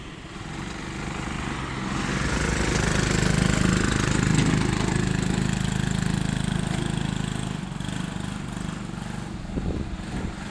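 A TVS XL100 moped pulls a loaded trailer during a speed test, its small engine droning steadily at medium volume, swelling as it passes closest mid-run and easing off toward the end.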